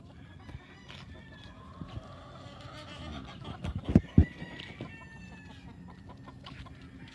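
Backyard hens and roosters, including a three-to-four-year-old proven hen on moult, cluck and crow near and far, with a few louder clucks standing out midway and a faint voice speaking in the background.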